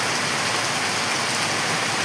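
Heavy rain pours down steadily in a village, a dense, unbroken wash of hiss with no pauses, close and fairly loud throughout.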